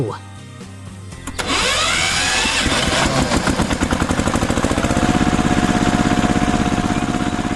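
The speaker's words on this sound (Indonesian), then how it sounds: "Traktor merah itu sangat kuat ya." Animated red tractor with a digger attachment on a stone track: a steady, loud motor drone starts after a quiet opening and runs on with a rhythmic pulsing chug, while a faint voice is heard early.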